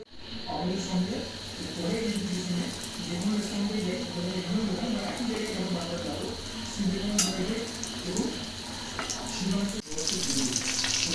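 Lotia fish fritters frying in hot oil on low heat give a continuous close sizzle and bubbling, with a clink of utensils, while someone talks throughout.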